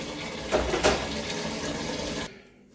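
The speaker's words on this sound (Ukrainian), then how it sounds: "Беремо таку кастрюлю, набираємо половинку водички." Steady rush of tap water pouring into a pot for about two seconds, with a couple of small clanks early on, then the flow cuts off.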